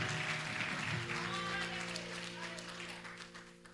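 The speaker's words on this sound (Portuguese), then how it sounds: "Você pode aplaudir a Jesus por isso, porque Ele é fiel." A church congregation applauds in a warm, continuous wash of clapping that tapers off over a few seconds, with sustained music tones and voices beneath it.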